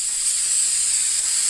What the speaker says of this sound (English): spray the back over the letters